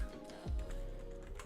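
Scattered keystrokes tap on a computer keyboard as a MySQL alter user command is entered in a Linux terminal, light irregular clicks over faint steady hum, nearby and quiet with no speech.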